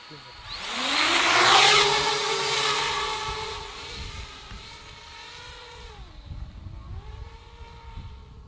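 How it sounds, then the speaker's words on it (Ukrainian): A military FPV drone's high, whining buzz rushes close and loud on a test range, then hovers steadily, its pitch dipping and rising as the motors change speed. "звук, який не сплутати ні з чим іншим. Так працює FPV-дрон."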